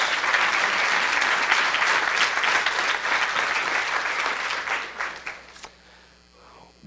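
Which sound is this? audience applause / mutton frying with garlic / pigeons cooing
audience applause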